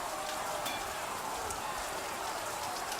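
Steady rain falls without a break, a dense, even hiss that stays at one level and sounds close and continuous, with no voices over it.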